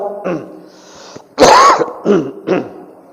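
A cough or throat-clearing burst from a speaker at an Islamic religious lecture stands out between soft murmured speech, followed by two shorter vocal bursts.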